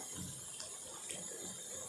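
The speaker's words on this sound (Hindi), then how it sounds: "और यहाँ पे हम इसमें पानी ऐड कर देंगे।" Spinach-boiled water being poured into a pot of chana dal, a steady splashing gush that runs without a break for the whole stretch, fairly close and moderately loud with no talking.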